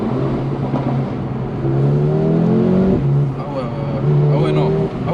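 A Mercedes-AMG A35 engine revs with a loud rising and falling drone heard from inside the car with the windows down, and people talk excitedly over it; distinct exhaust pops are hard to pick out.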